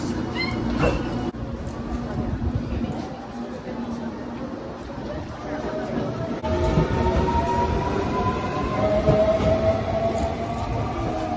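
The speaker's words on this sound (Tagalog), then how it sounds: "Bye-bye, train." A train rolls past outdoors with a sustained rumbling clatter and faint high squeals, steady throughout and fairly near, while people talk over it.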